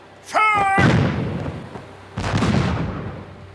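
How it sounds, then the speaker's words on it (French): Two heavy ship's cannon blasts a couple of seconds apart, each a deep boom with a long rumbling decay; a brief high tone precedes the first. "Fais tirer les canons"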